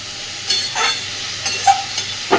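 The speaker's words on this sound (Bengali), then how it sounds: "লাউটাকে মিশিয়ে দেবো" Chopped bottle gourd is stirred in a frying pan, with a spatula scraping in several short strokes over a low, steady sizzle and no talk.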